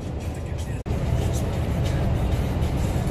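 A car drives along a desert road toward Eilat, giving a steady broadband rumble of engine and tyre noise from inside the cabin with one brief dropout.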